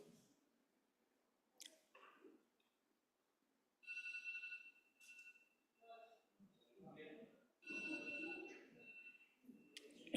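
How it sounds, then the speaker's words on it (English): A mobile phone rings in bursts during a legislative floor session vote, its electronic ringtone repeating several times against a quiet chamber with brief voices and shuffling between rings. "And whose ever phone that is, shut it off."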